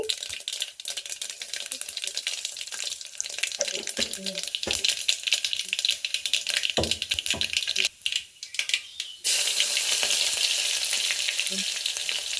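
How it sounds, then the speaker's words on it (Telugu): Oil with mustard seeds and a little cumin sizzles in a pot on a stove for a tempering, with a steady crackling hiss and popping that grows louder and brighter near the end. "పోపుకి సరిపడినంత ఆయిల్ ఆవాలు కొద్దిగా జీలకర్రి"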